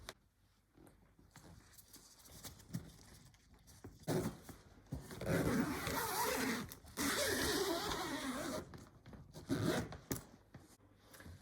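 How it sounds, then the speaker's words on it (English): Inner fabric liner of an Uppababy Vista V3 stroller being zipped back in, close rasping zipper runs and fabric rubbing, louder in the middle stretch, with quieter handling rustles around it. "Then we're going to zip back in the inner liner."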